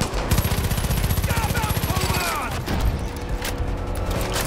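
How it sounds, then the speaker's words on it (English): Rapid automatic gunfire crackles in Far Cry 5, a fast, even train of loud shots for about two seconds, then continuing combat noise with scattered bangs and a brief low thump. "you have to lean out to shoot your gun"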